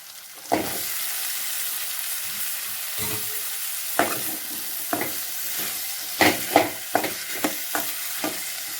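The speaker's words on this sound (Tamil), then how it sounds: "உருளைக்கிழங்கையும் முருங்காயும் சேர்த்துக்கலாம்" Potatoes and drumstick pods are stirred into a frying masala for a potato and drumstick masala curry: a steady close sizzle broken by a series of sharp scraping stir strokes, with no talking.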